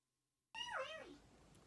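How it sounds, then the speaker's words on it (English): A single cat meow, bright and rising then falling, arrives abruptly after a half-second of silence and trails off into faint room tone; no talking. "thank you for the cat noises, Cinna."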